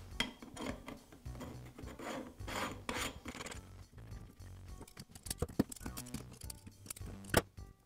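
An end cap with an O-ring is fitted onto a Bostitch nail gun during repair, giving faint scraping, rubbing and small clicking handling sounds up close, with no talk.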